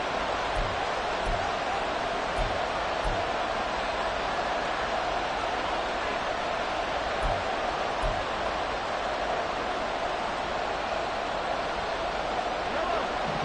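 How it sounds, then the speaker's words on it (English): A big crowd roars at an American football game as a play clock winds down on third and long, the noise a loud, unbroken wash that stays constant from start to finish. "This crowd turning up the decibel level."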